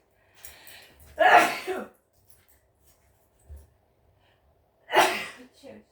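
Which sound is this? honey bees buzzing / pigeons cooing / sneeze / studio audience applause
sneeze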